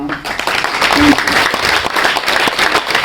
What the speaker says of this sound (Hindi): तो उस मेहनत के लिए एक जोरदार तालियां।